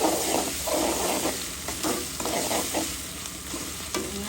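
Garlic paste sizzles in hot oil in a pan, a dense close hiss broken by repeated scraping stirs of a spatula against the pan.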